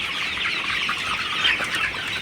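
A dense flock of broiler chickens, super hybrid and Sonali breeds about fifty days old, clucking and chirping together on a poultry farm, a constant busy chatter at moderate distance with no talk.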